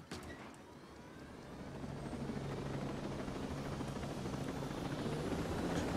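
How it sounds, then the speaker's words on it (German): Helicopter in the tactical shooter game Ghost Recon Breakpoint, a steady thumping rotor drone with turbine whine that builds slightly and holds loud and close throughout, with no voices. "Komm, da kann man schon doch trotzdem in die Nähe mit dem Hubschrauber."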